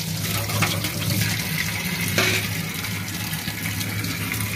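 Raw prawns are rinsed under a running kitchen tap, with a steady, loud gush of water splashing continuously into a bowl or sink and no speech over it.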